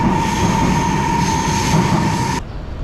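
Train doors close at a Chinese rail station on a new Songjiang line. A loud rumbling train hum with a steady high tone cuts off sharply near the end as the doors shut, leaving quieter background noise.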